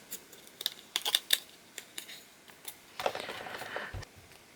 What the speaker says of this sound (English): and then sticky tape over the top of that